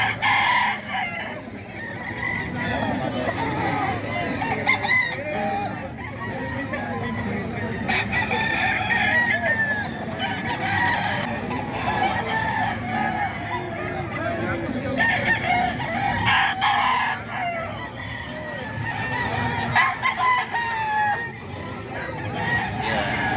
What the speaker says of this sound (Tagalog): Manok naman ni Kuya Salim, mga kaidol